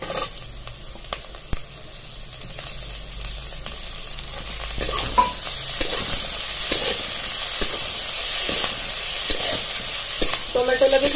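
Chopped onion and tomatoes sizzling in a pan for a winter amti, a continuous close frying hiss broken by repeated spoon scrapes and clacks of stirring, with no voices.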